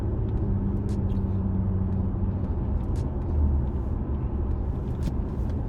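Infiniti Q50 with a VQ 3.7 engine and Invidia Gemini exhaust cruising near 60 mph, a steady deep engine and exhaust drone with road rumble throughout and a brief swell like a throttle blip on a downshift.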